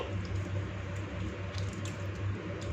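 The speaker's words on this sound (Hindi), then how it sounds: "सिर्फ हाथ को आप पानी से गीला करेंगे और बस गूंदते जाएंगे" Yeasted wheat roti dough is kneaded by hand with wet palms, giving soft, rhythmic squishing pushes repeated close up without any talking.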